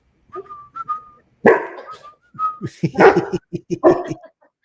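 Short whistled notes come in brief bursts, mixed with a dog's barks and whimpers nearby.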